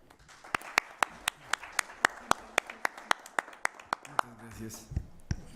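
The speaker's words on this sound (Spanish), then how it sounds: "Le damos, por favor, un fuerte aplauso" At an academic law lecture event, roughly twenty crisp claps come at a slow, even rhythm from a small audience, thinning out as a low voice and murmur come in near the end.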